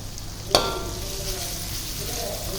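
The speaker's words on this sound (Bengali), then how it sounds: "লবণ দিয়ে এভাবে নাড়তে নাড়তে দেখা গেল পেঁয়াজটা একদম যখন সিদ্ধর মতো হয়ে যাবে" Onions salted and stirred as they fry in a pan produce a soft, continuous sizzle, with one sharp utensil knock near the start and no talking.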